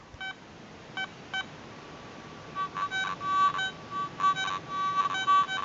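A Garrett ATX metal detector in iron-check mode gives a low, grunting tone over an iron target: short electronic beep bursts at first, then a thin steady tone broken by repeated pulsing blips, fairly faint and with no talking.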